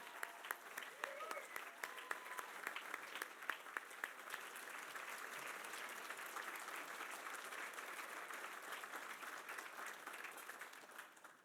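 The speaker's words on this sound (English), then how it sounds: "Raise your hands and I want you all to give them a round of applause." Sustained applause from a crowd at a gala dinner, a dense wash of clapping that holds steady and then fades out at the end.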